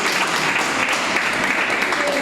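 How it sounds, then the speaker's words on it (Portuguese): A church congregation clapping during a Portuguese and Spanish worship service, steady dense clapping throughout, with voices mixed in beneath it. "Palmas para Jesus"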